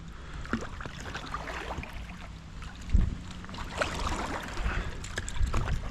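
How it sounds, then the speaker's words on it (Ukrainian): Oars work a fishing boat through shallow water, with irregular splashes and knocks, one louder stroke near the middle, set against light wind noise. "Грибу веслами, бо мотором не виходить."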